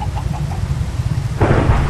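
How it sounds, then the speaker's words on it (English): Thunder from a lightning strike in Minecraft rumbles loudly over steady rain, rising into a heavier crack and roll near the end, with faint clucking from chickens early on. "Lightning."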